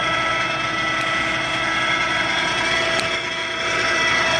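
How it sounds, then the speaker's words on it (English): Ooya radial arm drill, 4 foot by 13 inch, feeding its spindle down, giving a steady close machine hum with a constant motor whine and broadband mechanical noise, no voices over it. "Feed the drill."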